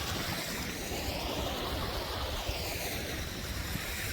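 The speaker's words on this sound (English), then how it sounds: "following the brook" A brook flows beside a snowy hiking trail in the Peak District, its steady rushing wash filling the scene with some wind buffeting the microphone.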